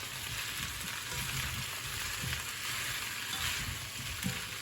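Onions and lardons frying in a pan, a steady close sizzle and crackle with soft low bumps of stirring, no one talking.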